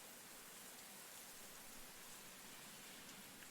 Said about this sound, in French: Soudainement, la pluie commence à tomber, douce